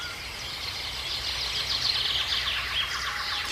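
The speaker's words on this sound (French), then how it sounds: "Les oiseaux, cachés dans le feuillage des arbres, répondent à nouveau par leur chant." Many birds chirp and twitter together in a dense, continuous chorus of high tweets, fairly close and without any talking.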